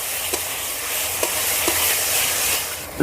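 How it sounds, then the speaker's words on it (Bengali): Spice masala mixed with salt fries in a pan over an earthen clay stove, giving a continuous soft sizzle with a few scraping stirs of a spoon, close by and without talk. "ভালো করে মশলার সঙ্গে লবণটা মিশিয়ে নেব"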